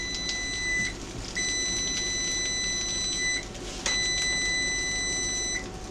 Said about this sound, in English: Turn that noisy timer off.